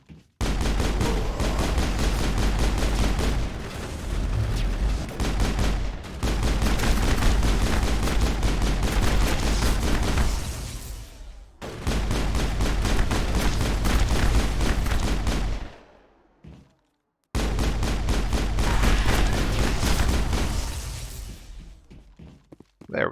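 Squad members fire their guns in the sci-fi shooter Mass Effect: a loud, steady rattle of rapid shots in long bursts, broken by a few short pauses, with no voices.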